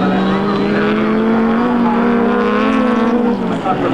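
Rally cars arrive at the finish of a Finnish youth and women's league event in 2000, their engines producing a loud, steady, close drone that holds for several seconds before easing slightly at the end.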